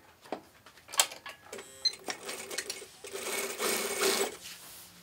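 A sewing machine stitches the side seam of a garment, its needle running in short bursts and then a longer steady whir, close up with small clicks between runs.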